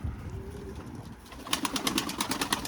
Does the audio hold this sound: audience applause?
no